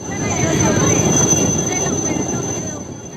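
A rescue helicopter works over flood-stricken parts of Valsad district, Gujarat: a loud, steady rotor roar with a high whine that holds throughout, swelling slightly and then easing.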